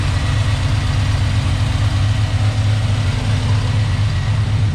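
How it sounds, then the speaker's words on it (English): A newly installed Blueprint Engines 377 stroker V8 in a muscle truck idles steadily with a deep, even rumble, loud and close, with no breaks or revving. "Very smooth running engine."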